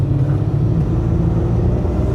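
A Ford F150 pickup with big turbos on its first drive before an alignment, its engine giving a steady low rumble throughout, continuous and fairly loud with no voices over it.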